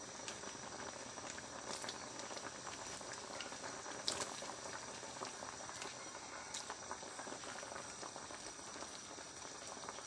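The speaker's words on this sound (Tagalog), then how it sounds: "Kumulo na." Salmon head sinigang broth with shrimp boils in a pot, a steady bubbling and pattering of liquid that holds even and continuous throughout, with a few brief clinks rising briefly above it.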